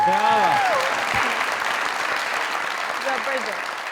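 Studio audience at a live Pakistani talk show applauds steadily, a dense continuous wash of clapping that slowly fades, with a voice speaking over the start.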